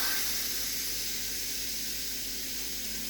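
Steam from a pressure cooker's release valve hisses steadily and loudly for the whole stretch, a broad unbroken rush, muffled slightly by a cloth held over the valve while cooking a one-pot teriyaki chicken meal.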